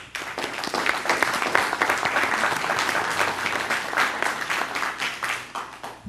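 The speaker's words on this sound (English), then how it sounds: "I would like to give her a very strong round of applause for your work." A school district board meeting audience gives a strong round of applause, a full, sustained wash of clapping from a roomful of people that holds steady for several seconds before tapering slightly at the end.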